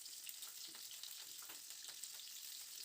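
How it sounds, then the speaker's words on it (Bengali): Cauliflower florets frying in hot mustard oil, a faint, continuous hiss of fine crackles and small pops, heard alone at a distance. "এবার তেলটা গরম হয়ে গেলে এখানে ফুলকপিগুলোকে প্রথমে একটু লালচে করে ভেজে নেব।"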